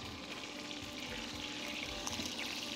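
Chicken pieces frying in a Le Creuset deep skillet, a steady broadband sizzle and crackle running unbroken throughout at moderate level, with no voices.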